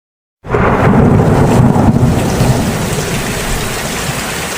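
Heavy rain with thunder starts abruptly and stays loud, a dense, steady downpour with a deep rumble in the first seconds that gradually settles into constant rainfall.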